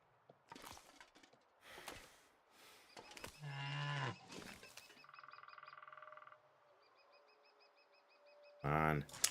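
Cattle mooing in a Canadian-themed video game, several drawn-out moos separated by gaps, with short bird-like chirps and tonal game sounds between them and a final loud moo near the end.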